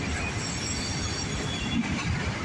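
A freight train hauling autorack cars rolls past on the railroad near abandoned spurs, its wheels grinding and clattering loudly and steadily close by, with faint squeals on the rails.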